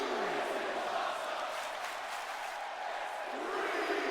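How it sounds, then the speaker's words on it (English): A wrestling event crowd screams and cheers after a move off the top turnbuckle, a sustained roar of many voices at a moderate distance with rising swells, no single voice standing out. "You have the crowd screaming"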